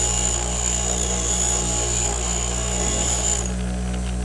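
A chisel slides side to side across the tool rest of a homemade bench grinder, a continuous loud whirring grind with a steady high whine that drops away near the end.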